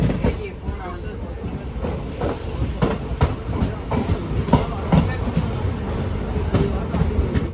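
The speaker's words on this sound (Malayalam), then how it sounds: "8:55 ട്രെയിൻ ഇതാ തിരുപ്പൂരിലേക്ക് എത്തിയിരിക്കുകയാണ്." Tambaram Mangaluru Express rolling into Tiruppur station, with a loud, close rhythmic clatter of wheels over rail joints and a steady carriage rumble, no talk.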